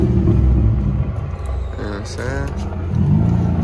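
An Infiniti G35 sedan drift build idles with a steady low rumble close by, while someone talks over it.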